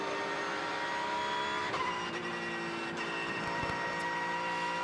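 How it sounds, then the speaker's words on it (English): Straight-cut gearbox whine from a Porsche race car during the Hankook 12 Hours of Kuwait 2023 endurance race, a steady high-pitched mechanical tone heard alone over continuous engine drone. "The unmistakable whine of a straight-cut Porsche gearbox."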